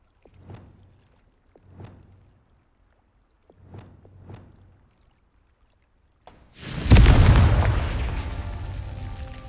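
A blasting curse in a Harry Potter video game erupts into a big booming explosion with a long rumbling tail, coming after several soft thuds and a near-silent pause.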